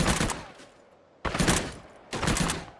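A modded gun in the video game ARK fires rapidly in three loud bursts, each a dense rattle of shots, separated by short quieter gaps.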